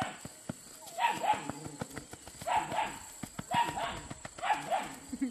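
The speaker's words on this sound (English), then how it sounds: "Given bones to the other puppies to keep them quiet because they want to come play too." A close group of big black and red puppies yips and whimpers in repeated short bursts, with clicks and shuffling between them, fairly near and moderately loud, with no talking.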